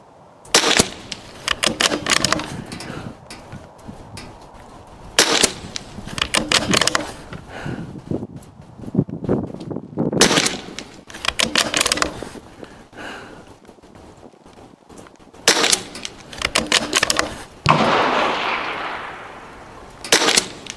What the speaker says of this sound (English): I'm going to go ahead and shoot my second one here and see what I can do.